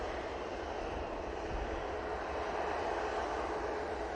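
A Jet2 passenger jet roars steadily at Manchester Airport, a broad continuous engine rush holding at even loudness throughout without speech.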